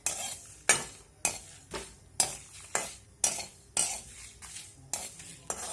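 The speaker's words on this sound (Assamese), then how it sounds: "এতিয়া এই মছলাখিনি অলপ গৰম কৰি ল'ম" Dry chillies and white mustard seeds tossed in a hot wok, a spoon or spatula scraping and stirring in a steady rhythm of about two strokes per second over a faint dry sizzle, close and clear with no talking.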